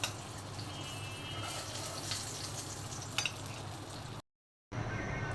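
Fish sizzling steadily as it fries in hot oil for a bhorta in a home kitchen, with a continuous crackling hiss and a few sharper pops, moderately quiet, ending in a short silent break.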